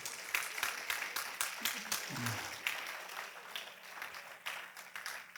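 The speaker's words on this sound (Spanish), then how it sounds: "Aquí donde la gente dice amén y aplaude." A church congregation claps in scattered, uneven bursts during a sermon, moderately distant, with a low voice rising briefly between the claps.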